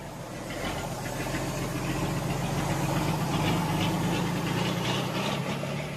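A bare vehicle chassis with no body panels or plates, just frame and motor, runs steadily in the Amazon backcountry of Brazil, its engine droning and knocking at a constant idle-like level throughout.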